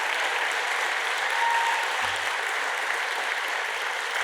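Sustained applause from a large crowd at an Indigenous oration evening on a riverbank, a dense, even wash of clapping that holds steady and loud throughout with no pauses.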